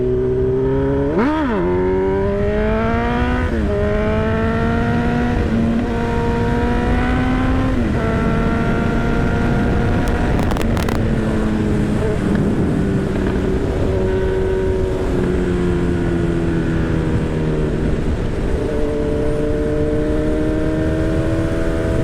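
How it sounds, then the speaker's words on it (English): A Honda CB1000R Hornet motorcycle engine revved repeatedly at close range, throttle blips rising and falling through rapid pitch sweeps over a steady idle, loud and continuous with no talking. "This is a mean sounding bike, guys. Throttle play, baby."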